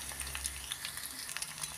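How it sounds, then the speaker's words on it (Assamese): Onions, garlic, ginger and spices sizzle and crackle steadily in hot oil, with occasional sharper pops and light stirring scrapes. "এতিয়া মই এইখিনি চিমতে ভাজি ল'ম"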